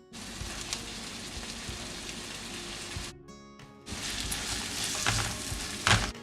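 Chopped large onions and spring onions sautéing in a hot pan, a steady close sizzle and crackle with a brief dip in the middle before the frying noise swells again.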